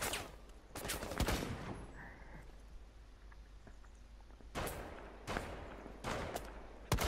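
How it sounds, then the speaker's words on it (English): Assault rifle fire in Rainbow Six Siege terrorist hunt: short sharp bursts of shots, two around the start then a cluster of three or four near the end, fairly loud over quiet game ambience. "one of them with an assault rifle starts firing at you"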